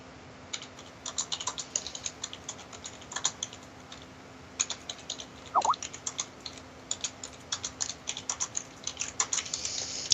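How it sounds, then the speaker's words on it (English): Rapid typing on a computer keyboard, close and fairly quiet, with irregular bursts of key clicks and short pauses between them. A faint steady hum sits under the keys, and no one speaks. "I'm falling silent while I type"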